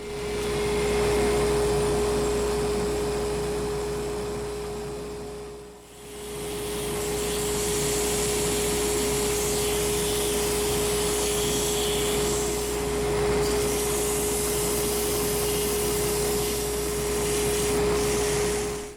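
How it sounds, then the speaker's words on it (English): Stabilized wood pen blank spinning on a lathe while being sanded, a loud continuous motor hum with steady raspy friction that dips briefly once before resuming. "and then I'm going to do the rest with sandpaper"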